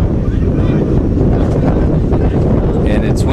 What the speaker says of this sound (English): Very windy evening here in Yuma tonight.